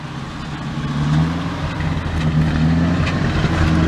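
A 1935 Packard coupe with a single exhaust runs at a steady idle close by, a low, even rumble with a slight rhythmic pulse and no talking.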